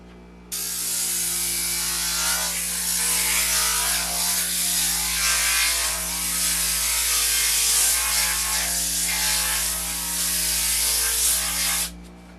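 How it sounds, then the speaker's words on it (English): A grinding wheel grinding an orthotic heel cup flat, a loud steady mechanical whirr with a rough abrasive rasp that starts suddenly, holds for about eleven seconds and then cuts off. "I go up to now my grinding wheel, and I first grind the heel cup"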